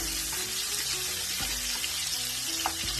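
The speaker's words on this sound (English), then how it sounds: "we're just going to get this nice and sauteed" Shrimp and seafood sautéing in a pan for a seafood Alfredo, a steady broadband sizzle running throughout with occasional soft clinks and stirring scrapes, close and fairly loud, no talking.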